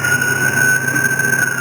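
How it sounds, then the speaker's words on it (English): A fire truck siren holds a loud, steady, high-pitched tone close by, sustained without a break and heard alone. "I'm going to shoot this son of a bitch with this siren"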